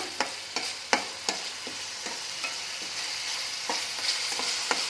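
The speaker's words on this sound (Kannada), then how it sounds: "ಇದು ಚೆನ್ನಾಗಿ ಮಿಕ್ಸ್ ಮಾಡ್ಕೊಳ್ಳೋಣ" Tomatoes added to food sizzling in a pan while a utensil scrapes and taps through it in irregular strokes, close and clear, with no voices.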